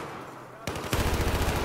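Video game gunfire bursts in sharply after a quiet start, with a rapid run of loud shots near the end.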